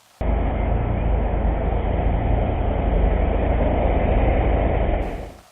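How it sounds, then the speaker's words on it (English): A Ford Puma's engine drones loudly at constant pitch for about five seconds, then fades out; no voices. "it's still a nice, good sounding revving engine"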